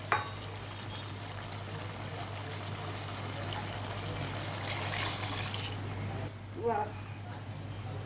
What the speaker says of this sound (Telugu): 5 చెమ్ములు నీళ్లు పోస్తాం.